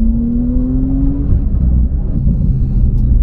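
A deep, throaty Porsche 911 (992) Carrera 4S Stage 2 exhaust rumbles steadily at close range, with a rising engine tone early on, around 4,000-5,000 rpm.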